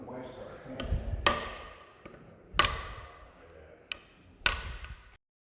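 Hammer blows on a metal punch set against a stuck fastener, four sharp ringing strikes spaced about a second apart with quieter taps and handling noise between, close and alone.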